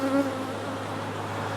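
Honeybees at a newly split hive fill the air with a dense, steady buzzing hum, close and continuous, with no voices.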